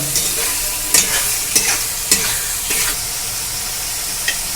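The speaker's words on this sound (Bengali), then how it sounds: "এক চা চামচ ভর্তি নুন দিয়ে দিচ্ছি দেড় চা চামচ জিরে বাটা" Salt and cumin paste go into a sizzling chana masala and are stirred. The loud, bright frying hiss carries several distinct scraping stirs in an uneven rhythm.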